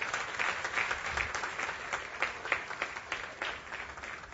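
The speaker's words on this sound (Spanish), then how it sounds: "Yo doy ese aplauso para Dios," A church congregation applauds together, a steady patter of many hands clapping at moderate volume with little talk.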